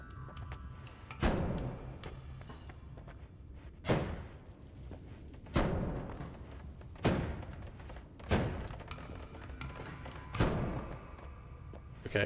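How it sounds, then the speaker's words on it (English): Small explosions from the video game Noita go off about every one and a half to two seconds, each a dull, soft thud that fades quickly, with quiet rumble between them and no talk. "my tiny explosions are not getting through"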